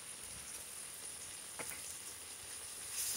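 Cumin paste hits hot oil in a pan for a village-style parshe fish curry, giving a soft, steady sizzling hiss, with a brief stirring scrape partway through and no talking.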